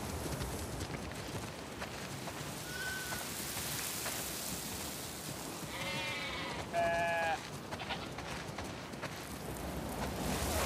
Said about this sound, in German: Wir haben viel zu viele Schafe.